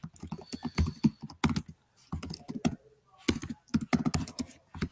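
Fast typing on a computer keyboard as contact details are entered: quick bursts of close, crisp key clicks broken by short pauses, with no speech.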